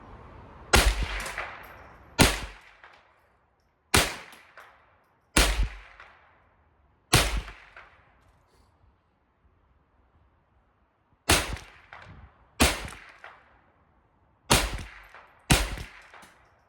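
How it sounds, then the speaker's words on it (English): A Ruger 10/22 rifle in .22LR fires at an outdoor range, targets at 25 and 50 yards. About nine sharp, loud cracks ring out one at a time, a second or more apart, with a longer pause midway. Each crack has a short decaying tail. "let's take some shots at 25 on the bottom left target and at 50 on the bottom left target"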